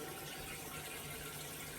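Water pours steadily from a small decorative waterfall fountain, a close, continuous rushing and splashing with no breaks.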